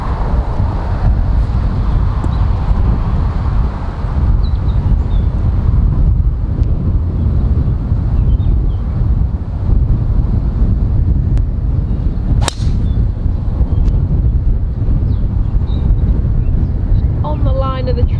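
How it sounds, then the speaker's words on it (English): Steady wind buffets the microphone on a raised golf tee at La Reserva Golf Club in Spain, a constant broadband rush lasting throughout with a sharp crack near the middle. "the raised tee, you can really feel the wind"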